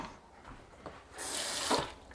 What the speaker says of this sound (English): I'm just going to use this and add some more water